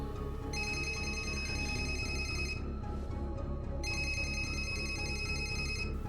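Mobile phone ringing in the Japanese horror film Phone, an electronic ringtone of bright repeated tones in two long bursts with a short gap, over a steady low background hum.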